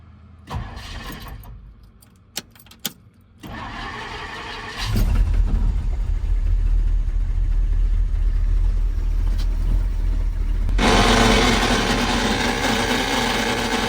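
A Ford diesel truck with a faulty starter cranks in short bursts, then catches and starts, settling into a loud, steady close idle that brightens and grows harsher near the end.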